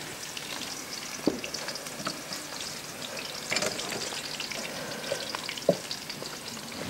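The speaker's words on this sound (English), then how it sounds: "So I'll just add a little butter to it. And then I'll add my onions." Onions frying in butter in a pan, a soft continuous sizzle with a few sharper clicks and scrapes from stirring, moderately quiet and close, with no talking.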